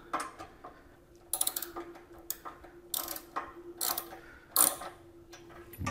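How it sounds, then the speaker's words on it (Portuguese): A 13 mm wrench ratchets while tightening the luggage rack bolts on a Royal Enfield Classic 350 motorcycle, giving short bursts of quick clicking separated by pauses, close and fairly quiet. "Vamos pegar uma outra chave 13 para fixar aqui atrás, ó. Para a gente poder dar o aperto de forma tranquila aqui"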